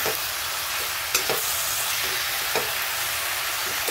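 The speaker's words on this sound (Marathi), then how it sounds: "आता आपण याला पूर्ण मिक्स करून घेऊ।" Potato slices being stirred and mixed in a hot pan, with a steady sizzling hiss of frying broken by a few sharp scraping knocks from the spoon.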